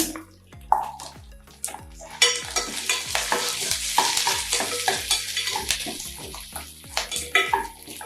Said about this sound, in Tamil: வெங்காயத்தை போட்டுக்கோங்க, பூண்டையும் போட்டுக்கோங்க.